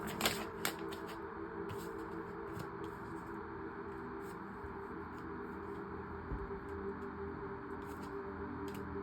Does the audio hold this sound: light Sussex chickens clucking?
no